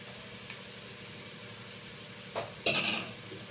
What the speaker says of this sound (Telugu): మనం ముందే తయారు చేసి పెట్టుకున్న ఆనియన్ టమాటా ప్యూరీ వేసేసుకుందాం. ఇది కూడా బాగా ఫ్రై అయ్యేటట్లు ఫ్రై చేసుకుందాం.